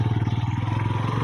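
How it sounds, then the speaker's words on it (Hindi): A motorbike labours uphill on a forest road, its engine chugging loud and close in a steady, rapid pulsing throb that never lets up. "देखो ये काफ़ी थोड़ा सा स्ट्रगल करता हुआ बाइक,"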